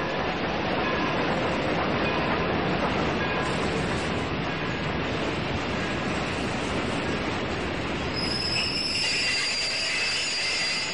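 Crowded old subway train running on a hot summer day, with a steady loud rumble of wheels on rails, rattling cars and faint high squeals near the end.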